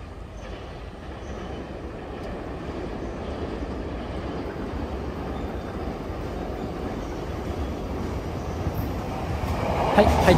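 The 12-car limited express train Azusa No. 50 rumbles steadily into Kofu Station, its low roar building gradually with faint wheel squeal near the end, a Japanese platform announcement in the background.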